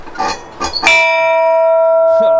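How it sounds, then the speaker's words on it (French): A bell rung by visitors strikes once, loud and close, right after a few words of speech, then rings on as a long, steady, slowly fading tone. "on sonne cette cloche-là quand on est amoureux, c'est ça ?"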